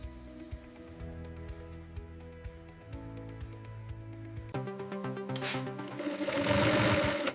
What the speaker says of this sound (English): Industrial sewing machines are used for consistent, strong seams.